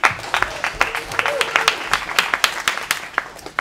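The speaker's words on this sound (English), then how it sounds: "Quick round of applause for the newbies." Brief round of applause for first-time attendees at a tech meetup, scattered distinct claps from a modest group, fairly close, with voices murmuring underneath.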